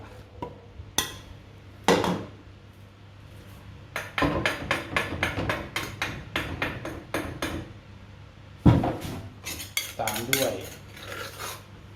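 Meat is cooked in a pot for a Thai beef curry with eggplant, with metal utensils scraping and clinking against the pot in irregular bursts, close and fairly loud, over a quiet background.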